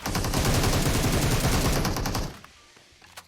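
Dense, rapid automatic gunfire from the video game PUBG Mobile rattles loudly for about two seconds, then cuts off to faint game ambience with one small pop.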